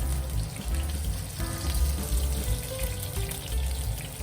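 Pork slices frying in a pan until slightly charred make a dense, watery sizzle and spatter, loud and continuous over a low rumbling background.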